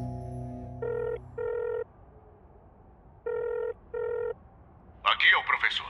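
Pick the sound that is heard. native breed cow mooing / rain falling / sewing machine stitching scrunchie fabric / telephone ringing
telephone ringing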